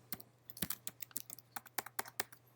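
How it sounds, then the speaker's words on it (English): Typing on a computer keyboard: a quick, uneven run of sharp key clicks, close and fairly quiet, with no voices over it. "I wonder what I was typing there."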